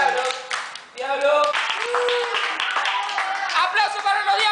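Children clap in applause for a devil costume drawing, the quick patter rising in strength under excited young voices shouting and cheering.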